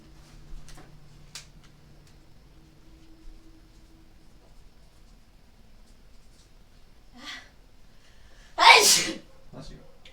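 A single loud, close sneeze bursts out of a quiet room during a live stream, preceded by faint, scattered small sounds.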